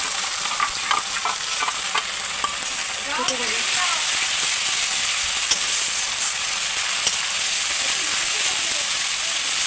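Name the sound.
spices and oil frying in pan for chicken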